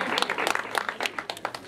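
Applause from guests at a thanksgiving celebration in Maraba, Kakamega County. A crowd claps continuously in a dense, uneven patter, loud and near, with faint voices underneath.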